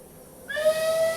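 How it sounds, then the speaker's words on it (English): A steam locomotive whistle blows loud and close, a sustained tonal shriek that starts abruptly after a brief quiet moment and holds steady to the end. "That was a whistle blowing."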